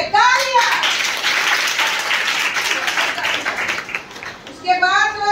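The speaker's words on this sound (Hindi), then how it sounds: "चलिए तालियां।" Audience clapping at a gathering, a dense burst of hands that swells and then fades, with a voice speaking briefly at the start and again at the end.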